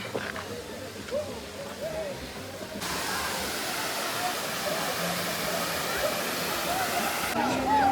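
Tada waterfall during the monsoon, a constant broadband roar of heavy falling water that grows louder and fuller partway through, with faint voices and bird-like chirps under the rush.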